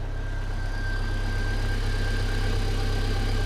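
An MG TF sports car engine idles steadily while warming up to temperature, a smooth, quiet, even hum with a low rumble that stays constant and close.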